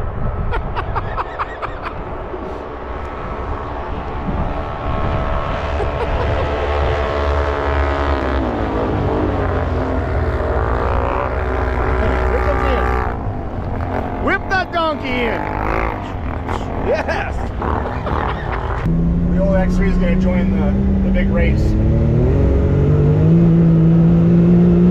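Can-Am Outlander XMR 1000, 850 and 700 off-road ATVs rev and roar close by on backcountry tracks, engines rising and falling loudly in overlapping bursts throughout.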